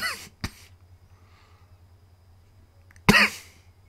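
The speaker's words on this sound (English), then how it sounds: "Again, I apologize for the coughing." A person coughing during Fallout 4 gameplay: one short cough at the start, another soon after, then a louder, harsher cough near the end, close and alone over a faint background hum.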